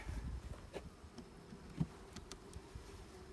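Steady insect buzzing of many honeybees in a hive, low and close, with faint scattered knocks and rustles throughout.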